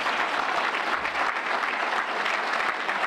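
An audience claps continuously at a speech about the civil rights movement, a dense, steady burst of many hands that fills the whole stretch without any talk over it.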